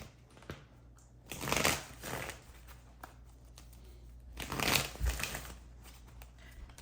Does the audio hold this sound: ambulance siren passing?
no